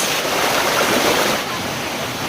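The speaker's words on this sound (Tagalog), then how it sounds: "napakagandang pakinggan yung lagaslas ng tubig" Loud, continuous rush of falling water at Gabur-Gabur Falls, dense and steady with no pauses, close by and filling the whole scene.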